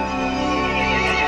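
A horse in the Resident Evil Village game trailer lets out a loud, close neigh, a single sustained whinny with rich tonal harmonics lasting just over a second, heard alone.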